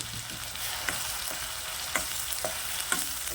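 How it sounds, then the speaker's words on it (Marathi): Ground spice paste for egg curry sizzles steadily in hot oil, a constant crackling hiss broken by a few light stirring taps, with no talking. "फोडणीसाठी मी तेल घातले त्याच्यामध्ये आपण जे सगळं वाटण वाटलं होतं ते सगळं वाटण मी घालणार आहे"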